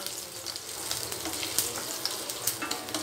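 Finely chopped ginger and chilli fry in a hot pan with curry leaves while making samba rava carrot idli, a steady close sizzle with light crackles and scattered pops and no talking.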